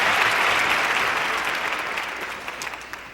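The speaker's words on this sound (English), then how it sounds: "if you can imagine 2 or 3 minutes of frantic applause and screaming" Theatre audience applauding after a ballet act, a dense wash of clapping that starts strong and slowly fades, with a few scattered claps near the end.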